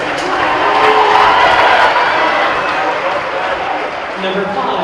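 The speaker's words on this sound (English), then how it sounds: "I'll turn this up so you can hear the crowd, the reaction, and everything that's going down here in the Haas" Gym crowd noise at a Division 4 high school boys basketball district final in Willard, Colonel Crawford against Lucas, a steady loud roar of many voices with cheering swells, broad and continuous throughout.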